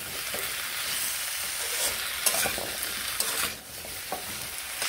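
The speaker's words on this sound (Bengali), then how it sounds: "ভালোভাবে পুঁই ও কুমড়োগুলোকে এইভাবে ভেজে নেব।" Malabar spinach and pumpkin pieces frying with salt and turmeric, a constant soft sizzle with occasional spoon scrapes and clinks as they are stirred, no voices.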